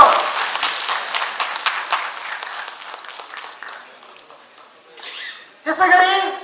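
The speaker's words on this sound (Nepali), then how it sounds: "जोरदार तालीले उहाँलाई हामी सम्मान गरौँ" Audience applause at a Nepali auto mechanics business association's silver jubilee annual general meeting, a loud burst of dense clapping that tapers off over several seconds before fresh crowd noise and voices rise near the end.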